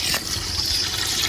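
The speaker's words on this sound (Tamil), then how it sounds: "அதுக்கு 4 டம்ளர் தண்ணி வந்து சேர்த்துக்கலாம்." Water is poured into rice for a village-style chicken biryani, four tumblers for two measures of rice. It makes a brief, steady, close splashing pour.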